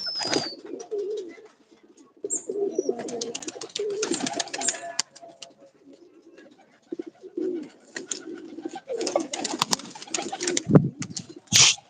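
Pigeons coo repeatedly at a morning release, their soft calls rising and falling close by with brief chirps in between and occasional handling noise.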